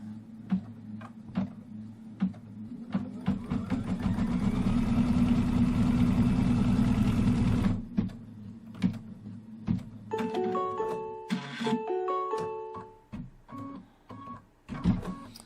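A home embroidery machine stitches a line on fabric for a quilt project. It runs with a loud, steady mechanical whir, then stops and gives a series of short beeps and clicks, with no talking.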